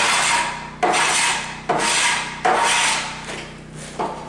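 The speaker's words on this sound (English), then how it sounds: "So what I do is I just run the planer" A planer is pushed down a rough-cut wooden board in four or five long rasping strokes, each starting with a sharp bite and fading out. The shaving sound is close and steady, with no talk.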